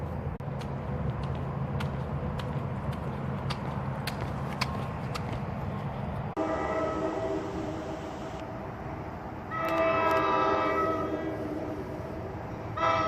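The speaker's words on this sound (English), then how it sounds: "We'll see if the train comes." A train rolls into a station with a steady low rumble of wheels and cars, then sounds its horn in loud sustained blasts near the end, with faint bursts of nearby talk in between.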